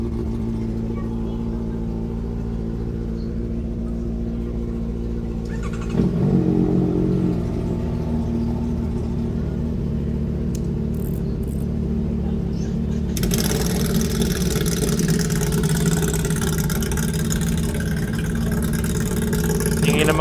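Motorcycle engines and exhausts drone steadily on a group ride in Tagaytay, and revving swells partway through. A second machine joins louder and closer near the end, with faint talk in the background.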